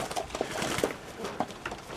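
Pet pigeons or doves coo softly in a flock, low murmuring calls repeating over a busy rustling background, fairly close.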